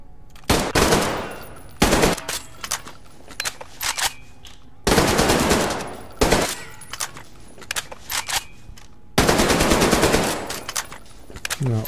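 Bursts of automatic gunfire in Metro Exodus, four long rattling volleys separated by shorter shots and pauses, loud and close, with no talking.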